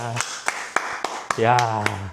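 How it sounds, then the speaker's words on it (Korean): A few people clap in a slow, even rhythm of sharp, separate claps in a small group setting, with a voice speaking over part of it. "여러분 박수 한번."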